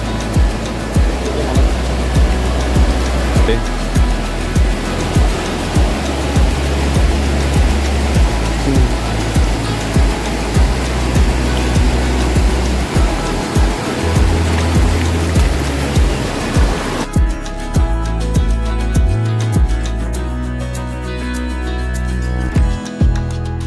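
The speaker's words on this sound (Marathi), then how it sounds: "आणि धबधब्याचा आवाज" Steady roaring rush of the Satsada waterfall near Mahad, loud and continuous, with faint rhythmic thumps of footsteps through most of it.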